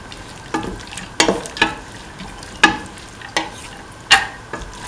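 Split chickpeas get stirred into curried cauliflower in a sizzling pan, a low steady fry broken by about eight sharp spoon scrapes and clacks at an uneven pace, close and fairly loud.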